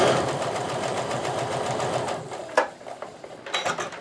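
Sewing machine stitching quilt pieces together for a Stars & Stripes Quilt of Valor, a steady rapid needle chatter running close and even for about two seconds, then slowing into scattered clicks and light fabric handling.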